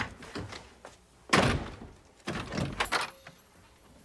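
A door slams during a heated family argument in a house, one heavy thunk followed by further bumps and clatter, fairly close, without talk.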